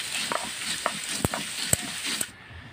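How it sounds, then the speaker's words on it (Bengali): Katla fish frying in oil, a continuous close sizzle broken by a few crisp pops and utensil taps, cutting off abruptly at the end, no talking. "মাছগুলো ভেজে নিচ্ছি।"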